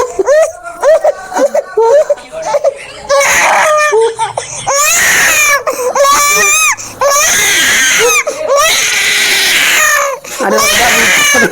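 Newborn baby boy cries loudly and close up just after delivery, in repeated wailing bursts with short gasping pauses, rising to strained, piercing screams.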